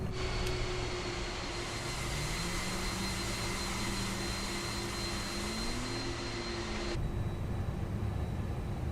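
A Qantas Airbus A330 taxiing in Microsoft Flight Simulator 2020 gives a steady, even jet engine whine and hum with a faint rising tone, shifting abruptly near the end to a duller rumble.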